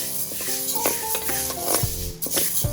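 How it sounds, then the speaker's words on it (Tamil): Green gram dry-roasting in a pan for Kanyakumari-style mundhiri kothu, stirred steadily with scraping strokes and light rattling of the dry beans, close and moderately loud with a faint sizzle underneath. "இதுக்கு 1 கப் பயரை இப்படி நல்லா வறுத்துக்கணும்."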